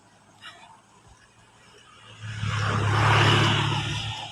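A car approaches and passes by close, its engine swelling from quiet to a loud whooshing peak and then easing slightly, heard outdoors.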